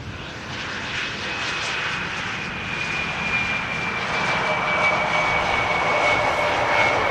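Jet engines of a CRJ regional airliner at Amsterdam Schiphol produce a loud, steady roar with a rising whine, sustained without a break throughout.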